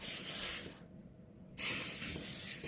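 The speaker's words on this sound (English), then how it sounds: "I sprayed it with I'm spraying it with a protector." Two bursts of aerosol protector spray hissing close up onto a custom-painted Converse shoe, broken by a short silent gap between them.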